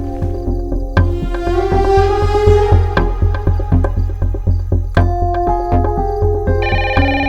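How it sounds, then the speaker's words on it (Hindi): A melodic phone ringtone plays loudly and repeatedly in a steady rhythmic pattern, close by, with no voices over it. "फोन क्यों नहीं पिक कर रहे हो? कब से बज रहा है?"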